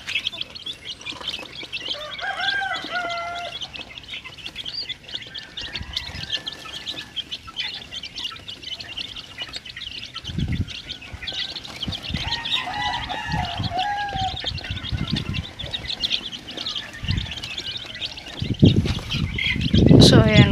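Chicks and chickens in a backyard pen cluck and chirp, with a rooster's crow and scattered peeps over a low, steady background, and some louder bursts of activity toward the end.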